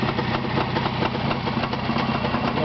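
An engine idling on a test stand at a retro vehicle club, a steady, even rumble close by with a slight throbbing vibration and no voices.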